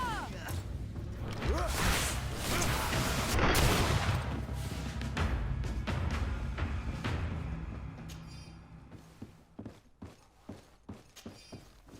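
A grenade blast and gunfire erupt in a GreedFall battle, with a dense roaring explosion and crackling debris in the first half, then a rhythmic run of sharp, separate gunshot-like cracks that fade toward the end.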